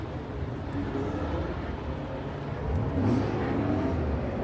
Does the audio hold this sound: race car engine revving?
yes